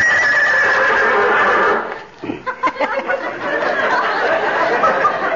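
Loud, close horse whinny used as a sound effect in a 1942 radio comedy show, a long quavering neigh followed by snorts and a few hoof-like knocks under a steady broadcast hiss.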